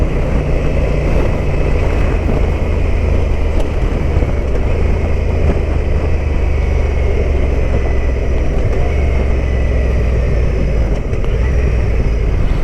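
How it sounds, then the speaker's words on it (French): Honda twin-cylinder motorcycle engine on the move, a loud, steady low drone mixed with wind noise; any crackle stays faint within the constant rumble. "Ce petit crépitement du bicylindre là."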